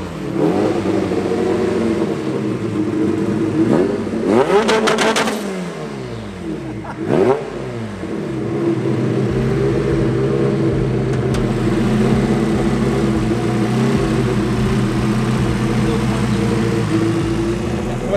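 A turbocharged 1992 Honda Civic LS VTEC hatchback with a B18 block is running loud and close, rising and falling through two quick revs before settling into a rough, steady idle.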